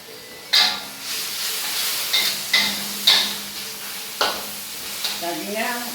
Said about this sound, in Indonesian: Terus pakai udangnya dicampur, tumis